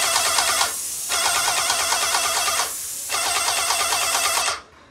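A TS colour paint sprayer machine runs at full pressure with a steady, loud hiss and motor drone, cutting off briefly twice before resuming and then stopping near the end.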